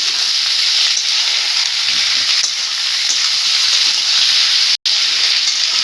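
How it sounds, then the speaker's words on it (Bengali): Vegetables frying in a wok, a loud, continuous close-up sizzle and hiss with faint stirring, broken by one brief silent gap near the end. "সবজিগুলোকে ভালোভাবে একটু ভেজে নিলে ভালো টেস্ট পাওয়া যাবে"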